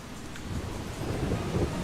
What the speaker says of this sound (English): Looks like it's about to storm.